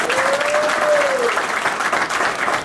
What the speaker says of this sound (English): Give you guys a round of applause.